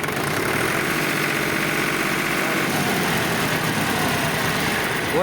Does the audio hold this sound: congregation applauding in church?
no